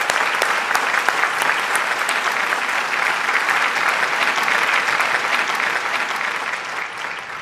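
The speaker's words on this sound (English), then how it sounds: "let's give a loud applause to your parents and grandparents." Loud, sustained applause from a large graduation ceremony audience at a school, a dense even roar of many clapping hands that holds steady throughout with no voices over it.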